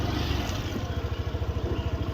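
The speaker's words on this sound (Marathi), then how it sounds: "इथे आता आपण बाईक लावत आहो" A motorcycle's engine idles close by with a steady, rapid low thumping while the bike is being parked at Kondeshwar, a temple and waterfall spot near Badlapur.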